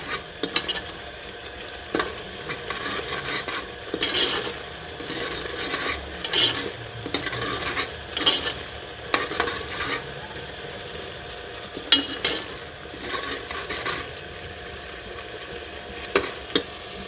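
Onions fry in ghee and oil in a pan for a beef white qorma, giving a continuous close sizzle with repeated bursts of scraping as they are stirred at irregular intervals.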